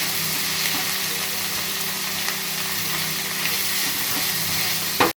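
Tomatoes and onions sautéing with salt in a pan, a steady close sizzle with faint hiss running evenly throughout, ending in a brief clatter.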